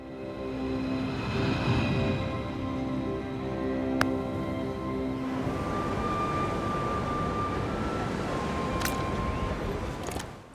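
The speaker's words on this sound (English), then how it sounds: "when a plane flies by your head," Aircraft passing overhead in the VR city-building game Little Cities: Bigger, a steady broadband rumble that swells early then holds as a continuous drone, with a faint tonal whine and a couple of sharp clicks.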